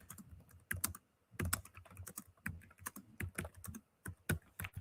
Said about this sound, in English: I am terrible at typing